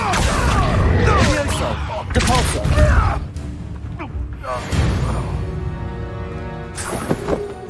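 Confringo blast spell cast in Hogwarts Legacy: loud crashing explosions and debris impacts in the opening seconds, followed by quieter rumbling tails and another sharp burst near the end, with a voice speaking over it.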